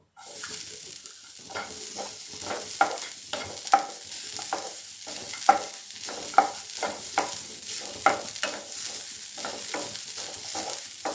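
Grated coconut dry-roasting in a pan without oil for mustard chutney, with steady scraping stir strokes and light crackle repeating in a rhythmic pattern, close and clear.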